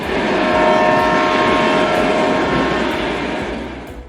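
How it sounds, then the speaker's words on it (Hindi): A train rumbles past, loud and close, with a sustained horn sounding over the steady roar of the wheels before the noise eases slightly at the end. "अगर आप ट्रेन के हॉर्न और ट्रेन की रनिंग साउंड लगा देंगे"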